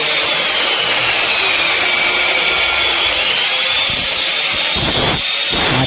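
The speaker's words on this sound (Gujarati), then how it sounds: "હાથે મશીન મારી દઈએ એટલે આમ પાલિશ જેમ થઈ જાય" A handheld power grinder runs steadily, smoothing a cut-down pipe during a bathroom fitting job, its loud continuous whine filling the space with a brief change in tone near the end.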